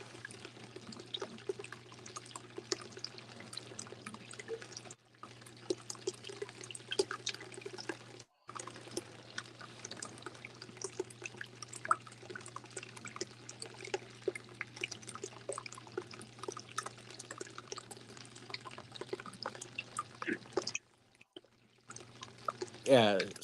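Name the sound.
water running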